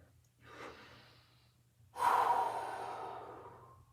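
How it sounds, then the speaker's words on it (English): Deep, slow breaths taken during a standing low-back and hamstring decompression stretch: a softer exhale early on, then a louder, longer breath that fades gradually, close to the mic with no talking. "Here we go, 5 breaths."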